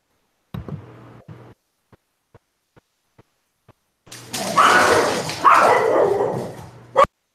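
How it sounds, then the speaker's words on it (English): A dog barks in a few sharp bursts at the start, followed by faint knocks, then a longer stretch of loud, harsh barking and yelping that ends in one final bark, close and clear. "That was a dog barking."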